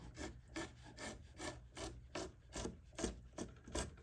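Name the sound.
carving wood top braces on a guitar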